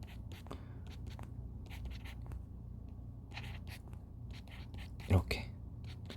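A pen writes out a wavefunction by hand while working a Griffiths quantum mechanics problem, giving short, soft scratchy strokes in quick bursts beneath quiet, murmured talk.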